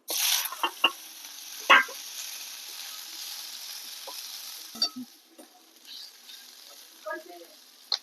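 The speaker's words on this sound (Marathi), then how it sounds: "कांदा चांगला लाल होईपर्यंत आपण इथं परतून घेतोय" Onions sauté in oil in a kadhai for a rustic Marathi vegetable dish, a soft continuous sizzle with occasional sharp clinks and scrapes of a stirring spoon, close and alone.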